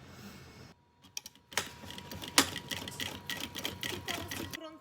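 Sewing machine stitching synthetic fabric for a school backpack, a fast rattling run of needle strokes starting after a brief pause and continuing steadily, close and fairly loud.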